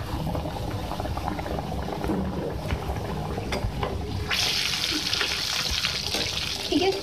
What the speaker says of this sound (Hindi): हमारा जो चिकन ही फ्राई हो रहा है